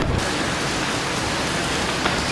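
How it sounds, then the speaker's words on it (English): Steady rain pours down outdoors as a dense, even hiss that holds at the same close, loud level throughout, with no voices. "It just starts raining too"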